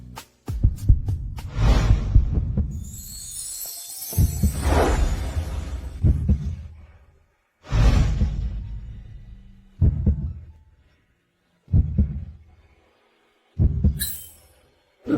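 Fast, loud heartbeat effect: repeated deep thumping pulses, with heavy bursts early on that thin to single beats spaced a couple of seconds apart, alone without talk.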